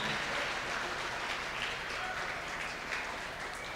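Audience applause at a live event at Lauffer Middle School, a crowd clapping steadily and fairly loudly throughout, with a faint voice mixed into the noise.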